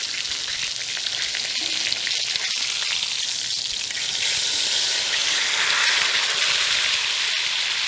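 A steak sizzles hard in a cast iron skillet, a loud, dense, continuous crackle with occasional sharper pops, swelling slightly midway and heard alone without voices.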